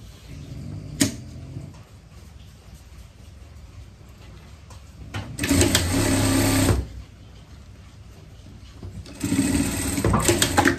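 Sewing machine stitching a flower-shaped Elizabethan collar, with two loud bursts of continuous motor whirring between quieter handling noises.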